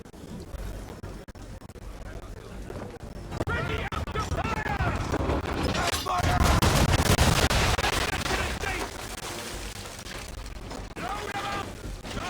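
A ship's cannons fire a rolling broadside in Assassin's Creed 3, a dense roar of overlapping booms swelling loud for several seconds amid game music and ambient sea noise.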